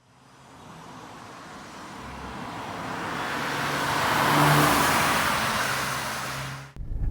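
A Volkswagen Mk6 Golf GTI Edition 35 with 98,000 miles drives off, its engine and road noise swelling steadily to a peak before cutting off abruptly.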